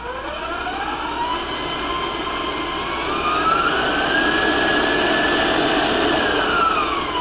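An electric mixer whirs steadily, beating orange extract into egg yolk cookie batter. Its motor whine holds close and constant, rising slightly in pitch partway through, with no voices.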